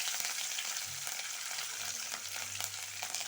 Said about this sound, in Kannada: ಈಗ ಕರಿಬೇವು ಹಾಕ್ಕೊಳ್ತೇನೆ